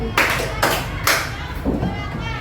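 Schoolchildren in a classroom concentration game clap together in three loud, sharp unison bursts at an even pace, followed by softer scattered clapping, with children's voices and room noise behind.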